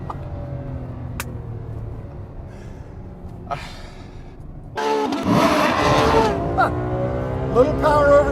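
A 2014 Ferrari F12 Berlinetta accelerates hard down a front straightaway, a steady engine drone swelling midway into a louder, rising roar with climbing gear tones that stays loud to the end.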